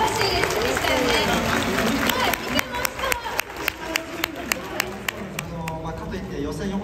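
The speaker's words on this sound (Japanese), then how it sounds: "ちょっとみんな拍手をお願いしますよ。" Crowd applause and scattered cheering at the F1 Tokyo Festival fan event in Roppongi, a dense wash of clapping that thins into distinct individual claps midway, with crowd voices and chatter throughout.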